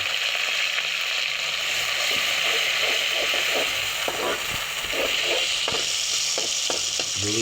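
Two medium chopped onions fry in a pan with ginger paste, producing a loud, continuous hiss with scattered stirring clicks and scrapes throughout.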